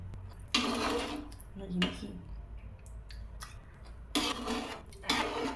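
A spoon scrapes and stirs paneer biryani rice in a pot, gentle gritty strokes in several short bursts with a soft clink, close by and fairly quiet.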